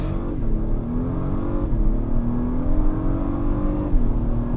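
A 2025 Acura MDX Type-S SUV launches hard from a standstill, its engine droning loudly and steadily as pitch climbs through the gears with brief dips at each shift, close and continuous with no talk.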